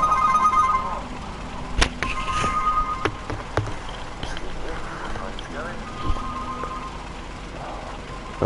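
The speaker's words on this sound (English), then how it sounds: "excuse me, my phone's going." A phone rings with a few repeated electronic tones early on, close and fairly clear, while a person talks nearby and scattered clicks and taps follow.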